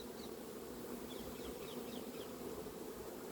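Dense, steady buzzing of a honeybee swarm covering a hive, close and continuous throughout with no voices.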